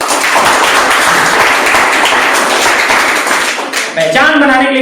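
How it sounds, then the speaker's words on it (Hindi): A classroom audience at an English-speaking lesson claps hands in a loud, dense burst that fills most of the moment before fading, with a voice cutting in near the end. "बजाओ ताली"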